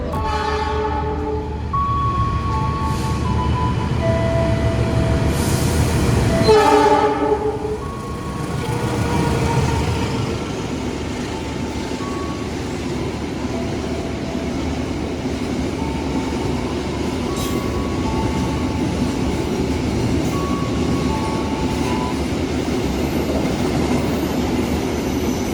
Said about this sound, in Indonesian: Kereta api angkutan barang.